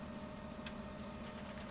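Fendt tractor in Farming Simulator 17 idling with a low, steady engine hum, faint and even throughout, with one brief soft click partway through.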